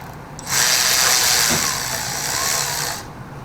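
A Milwaukee power ratchet spins bolts out of a 1977 Ford 351M engine during teardown, a loud, steady high whir lasting about two and a half seconds, close by, starting and stopping cleanly.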